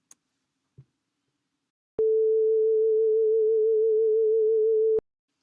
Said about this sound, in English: you can hear that the vibrato is increasing in intensity over the first half of the sound